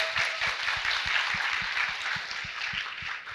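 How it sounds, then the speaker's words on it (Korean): Studio audience applauding at a Korean talk show, a steady wash of many hands clapping with faint rhythmic thumps underneath, sustained at even loudness throughout. "여러분 박수 부탁드립니다."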